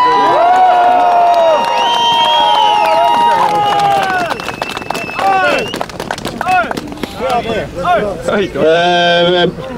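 Loud crowd cheering, whistling and shouting at a political rally, dense and continuous at first, then breaking into scattered shouts and voices toward the end.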